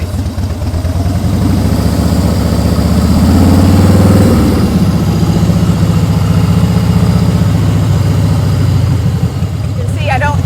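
Motorcycle engine idling and running at low speed through a slow-speed cone drill, a steady loud low rumble with a slight swell around the middle, under a rider's talk.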